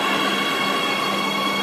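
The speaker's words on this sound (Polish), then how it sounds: "Tutaj metro." Metro train in an underground subway station, a steady loud rumble with a high whining tone held throughout, close and continuous, no talking.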